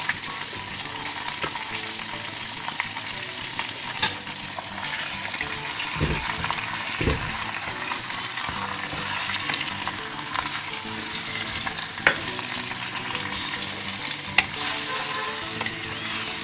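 Chicken sizzles and fries steadily in a pan with onion and ginger for a curry, a continuous crackling hiss broken by a few sharp stirring knocks.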